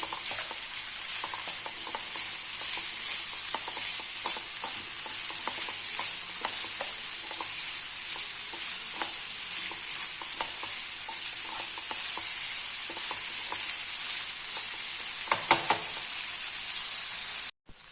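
Vegetables such as carrot and potato sizzle steadily in a hot pan for samosa filling, a constant frying hiss with occasional stirring scrapes, close by and without speech.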